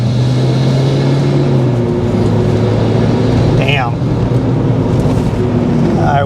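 A Flyin Miata tuned Mazda Miata being driven, its engine a loud, steady drone heard from inside the car, broken only by a brief spoken exclamation.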